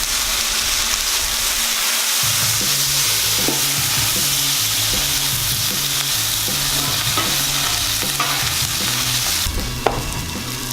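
A BBQ smash burger sizzles on a Blackstone griddle after water is splashed on to steam it, a loud constant hiss with rhythmic spatula scraping underneath, close by.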